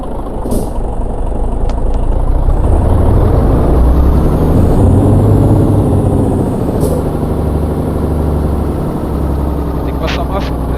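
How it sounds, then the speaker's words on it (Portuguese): A MAN truck engine in Euro Truck Simulator 2 drones loud and continuous, a heavy low rumble with faint air-brake hisses near the start and middle, sustained throughout. "acabar com esse som horrível do caminhão da MAN e do caminhão da Mercedes"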